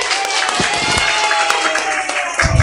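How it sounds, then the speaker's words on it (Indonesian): Children at a Sunday school Christmas service clapping their hands, a dense burst of many overlapping claps filling the room, with crowd noise and voices mixed in. "tepuk tangan untuk Tuhan"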